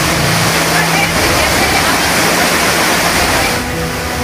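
Flash floodwater rushes loudly through Puncak, Bogor, in West Java, a dense, steady torrent roaring close by without pause.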